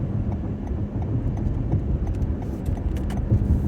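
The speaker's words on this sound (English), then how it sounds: "driving through these highways here" A car drives along a highway in Detroit, a steady low road and engine rumble that runs throughout at an even level, with faint ticks and rattles on top.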